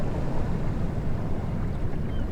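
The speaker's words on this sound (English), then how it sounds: "listen to the water behind me." River water flows along a muddy foreshore, a broad steady rushing wash close by with some wind buffeting the microphone, continuous and moderately loud for a couple of seconds with no talk.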